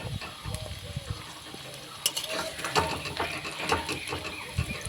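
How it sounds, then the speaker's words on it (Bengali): Onions frying in a pan while mutton with jackfruit is being cooked, a steady sizzle with scraping and stirring clatter throughout, close and moderately loud. "পেঁয়াজগুলোকে এরকমভাবে আমি ভেজে নিলাম।"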